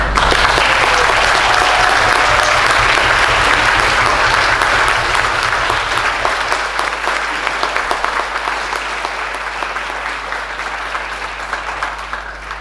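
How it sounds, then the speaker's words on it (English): Sustained applause from a concert audience at a youth band's 50th anniversary concert, dense and loud at first, then gradually thinning and fading over about twelve seconds. "Another round of applause."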